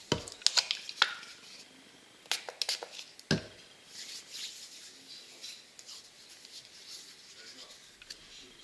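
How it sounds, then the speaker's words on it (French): Hands rubbing together to disinfect them before nail preparation, with soft close friction strokes and a few light taps at the start, then a quieter, steadier rubbing. "nous allons venir désinfecter nos mains"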